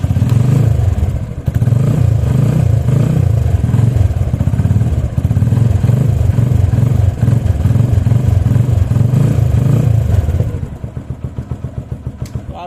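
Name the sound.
motorbike engine self-starting on a lithium battery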